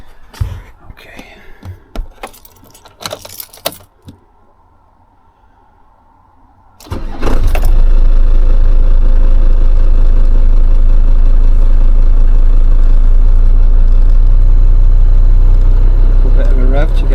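A Mercedes 410D van's diesel engine cranks and catches, then settles into a loud, steady idle heard up close from inside the cab, after a few seconds of quiet movement and handling noises.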